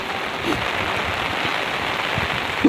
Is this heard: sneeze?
no